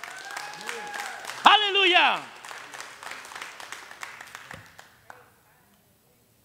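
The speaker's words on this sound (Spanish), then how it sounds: "Dale un aplauso, iglesia, Señor" Church congregation claps and cheers at a bilingual Spanish-English sermon, a voice calling out over the applause before it fades to silence.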